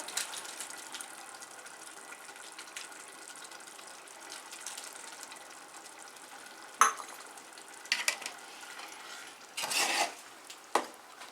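Mahua halwa cooking with a bowl of desi ghee in a hot pan, a steady soft frying sizzle under occasional sharp scrapes and stirs of a spoon against the pan, with a louder burst of stirring near the end.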